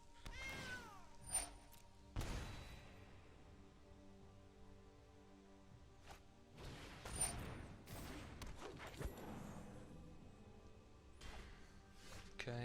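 Cat meow sound effect in the card game Magic: The Gathering Arena, a single clear meow at the start, followed by scattered thumps and game effects.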